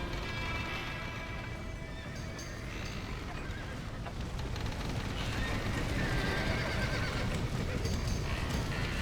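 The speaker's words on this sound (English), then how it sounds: "Somebody get them horses out." Horses whinny and neigh repeatedly inside a burning barn in Red Dead Redemption, with scattered hoof clatter beneath a dense roar of fire and commotion; no speech.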